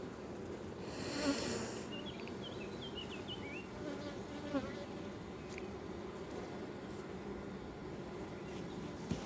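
Honeybee colony buzzing during a hive inspection of a nine-frame divisible hive: a dense, steady hum of many bees with occasional close fly-bys, moderately loud and continuous.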